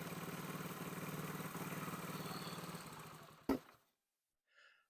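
A newly acquired Honda SL70 motorcycle idling close by with a rough, steady putter. It cuts out after a few seconds with a sharp clunk, then falls quiet apart from a faint brief noise.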